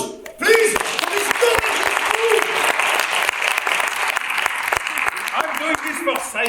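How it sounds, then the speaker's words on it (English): Audience applause at a live improvised comedy science show, a steady wash of many hands clapping that swells fast and holds loud throughout, with a voice briefly speaking at the start. "Applause, please."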